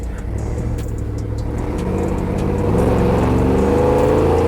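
A motor vehicle engine runs steadily and then revs higher, a loud, close, continuous rumble building in pitch.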